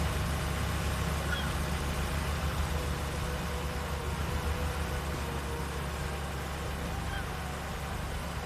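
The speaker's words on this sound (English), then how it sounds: "Drive this tractor through the grass for a minute and get most of the slime off." Tractor engine in Farming Simulator 19 driving through grass, a steady low rumble with broadband noise running unbroken and fairly loud throughout.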